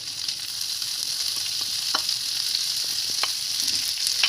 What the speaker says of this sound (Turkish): kavrulan baharatlarımız üzerine tuz soğanımızı ekliyoruz